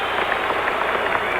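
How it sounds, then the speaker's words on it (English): Crowd in a basketball arena at the 1977 NBA Finals, Game 4, Blazers versus 76ers, rising to its feet with steady, dense applause and cheering filling the space without a break. "the crowd on its feet"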